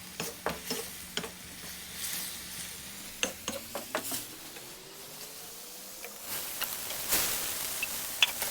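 Sweet potato noodles and rice wine being stirred in a hot pan for japchae, giving a steady soft sizzle broken by repeated scraping and clacking strokes of a utensil against the pan, close and clear with no talking.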